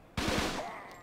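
Gunfire in the Fighting Force 2 video game: a sudden loud burst of three rapid shots, close and sharp, followed by a ringing tail that fades out over half a second.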